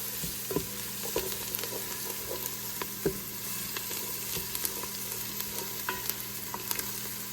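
Garlic cloves are stirred into a pan with sautéed onions for a baked ziti sauce, a soft steady sizzle punctuated by scattered spoon scrapes and taps.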